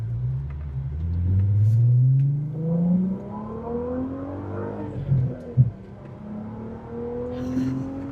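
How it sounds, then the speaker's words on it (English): A V6 car engine revs up through the gears, the exhaust note climbing in pitch with a deep rumble, then easing off and building again, close by. "I'm just giddy over this exhaust because it does sound so good."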